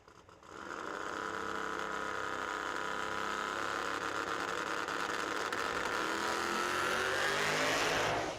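A drag race car engine at the 2023 Yellow Bullet Nationals drones loudly at high revs for several seconds, its pitch rising slightly before the driver lifts off and it cuts off sharply.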